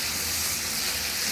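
Spice paste for kolai dal sizzles in hot oil in a pan, a brief, steady, close-up hiss with no talking.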